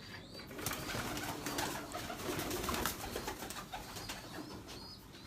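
Pigeons cooing close by in a loft setting, a steady murmur of soft coos with occasional rustling of wings, continuous and moderately loud with no talking.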